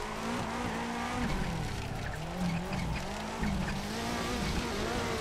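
Engine of a rallycross car in a racing video game, a Focus-type all-wheel-drive car, revving continuously while its tires squeal and skid through a sustained slide; loud and steady throughout with no talking.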